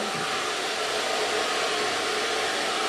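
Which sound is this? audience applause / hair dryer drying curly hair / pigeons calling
hair dryer drying curly hair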